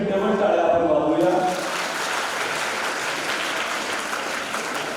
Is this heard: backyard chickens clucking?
no